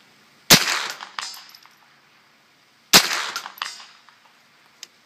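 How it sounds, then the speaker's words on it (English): A firearm firing at a target during a night law-enforcement shoot: two sharp, loud shots about two and a half seconds apart, each followed by a ringing metallic echo, plus a faint click near the end. "Commence firing."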